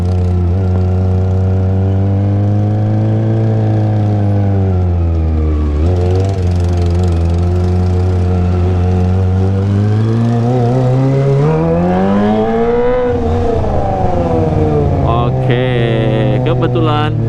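Kawasaki ZX25R motorcycle fitted with a LeoVince LV10 underbelly exhaust, revved hard to the limiter, its loud close-up engine note swelling and dropping in repeated surges over nearly twenty seconds.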